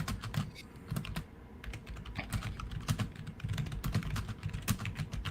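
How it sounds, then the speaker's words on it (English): Rapid typing on a computer keyboard, with a fast irregular patter of clicky keystrokes close up and occasional louder presses, no voice heard. "Sorry, I'm typing."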